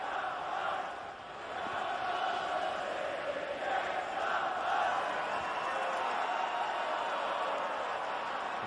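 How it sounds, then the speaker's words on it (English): Timbers Army supporters in a large stadium crowd at the 2014 MLS All-Star Game against Bayern Munich, a steady wall of crowd noise with sustained chant-like swells running continuously throughout. "A lot of the Timbers army here amongst the crowd. This All-Star game, and they have been in fine voice."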